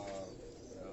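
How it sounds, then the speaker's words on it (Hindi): Pigeons kept on a rooftop coo softly in a brief, quiet burst, close by and without talk. "तो नुसार भाई आपके पास भी कबूतर हैं घर में रखे हुए हैं?"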